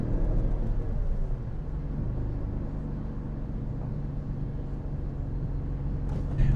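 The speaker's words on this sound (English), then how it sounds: "This rush hour traffic is crazy." Dense rush-hour road traffic in the UK, a steady low rumble of cars and buses passing close by, continuous and fairly loud with no voices.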